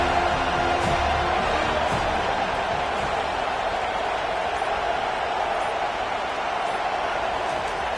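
Steady roar of a home crowd filling a stadium in the NCAA 25 college football video game, a dense, continuous wash of cheering that stays loud and even throughout with no voices standing out.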